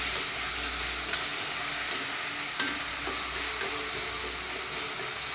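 Tomatoes sautéing in a pan for vada curry, a steady close sizzle and hiss with occasional stirring scrapes and taps, no talking.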